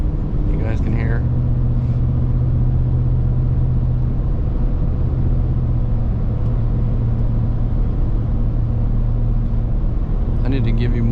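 A Ford F150 with a 5.0 engine cruises at night, its deep, steady exhaust rumble droning continuously and loud close by, with brief voice-like sounds near the start and end.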